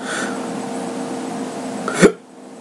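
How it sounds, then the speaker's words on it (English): One sharp hiccup after eating a ripe red Chenzo chili pepper, sudden and close, bursting out at the end of a steady low background hum, followed by near silence. "Might get the hiccups from this."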